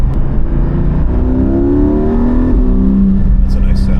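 A Porsche Spyder engine hums steadily at high load, induction and exhaust noise blending into a continuous loud drone with a gradually rising pitch, close and unbroken.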